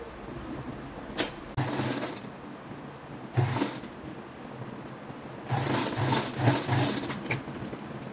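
A sewing machine stitches a narrow double-folded hem on a flared dress in several short bursts of rapid mechanical whirring, close and clear, separated by quiet pauses and small handling clicks.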